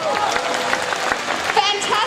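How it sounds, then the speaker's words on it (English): Applause from a convention audience gathered for a cosplay event, a fast, dense clatter of many hands with scattered voices mixed in throughout. "Everyone show them how to applaud"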